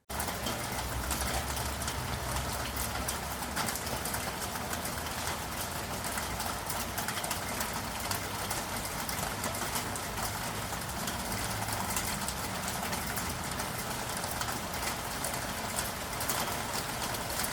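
Rain falls in a steady, even hiss that fills the whole stretch without pause, with a faint low rumble underneath.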